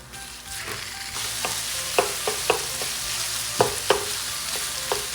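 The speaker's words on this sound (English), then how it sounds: "So it's time to put in the ground pork." Ground pork sizzling in a pan with oil, ginger, and red pepper while being stirred, a loud continuous frying hiss broken by repeated scraping and clacking utensil strokes, close up with no talking.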